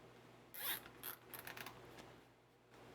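A nylon zip tie ratchets tight in a quick run of small, close zipping clicks, a couple of short pulls then a faster burst, alone in a quiet room.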